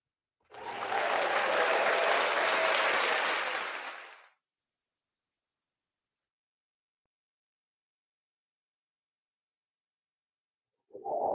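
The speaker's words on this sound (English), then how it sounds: "Let me give him a round of applause" A short burst of clapping on a live sports talk show, steady and fairly close for about four seconds, then silence.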